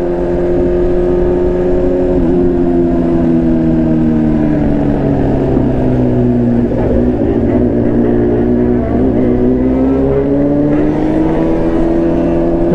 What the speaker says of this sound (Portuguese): o barulho da minha moto tá mais alto do que todas essas motos que estão aí